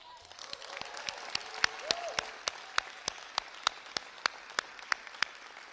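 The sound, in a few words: audience applause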